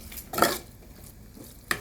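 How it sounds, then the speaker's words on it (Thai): Two quick scraping strokes of a utensil stirring duck in a copper frying pan, with a faint sizzle underneath, close by. "ต้องคนเร็วๆแบบนี้"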